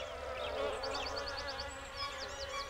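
Several high, warbling buzzes rise and fall in short bursts over a low steady hum, like small bees buzzing nearby.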